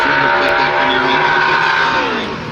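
A NASCAR Cup Series car driven by Alex Bowman on a qualifying lap at ISM Raceway, its engine a loud, sustained, high-pitched roar at speed, holding steady before easing slightly near the end.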